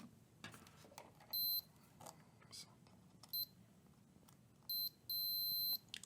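Short multimeter continuity beeps sound in a few separate bursts, one held longer, over faint handling noise and quiet background.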